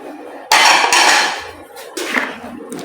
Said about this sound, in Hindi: इन सब फ्रूट्स को अच्छे से मिक्स कर लें।